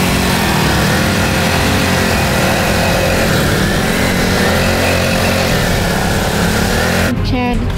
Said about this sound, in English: Chad having problem with his motorcycle again.